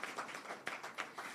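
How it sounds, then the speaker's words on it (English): An audience at a press conference on education claps for visiting students. The applause is faint and distant, a sparse patter of hands rising in a few louder swells. "Give them a round of applause, please."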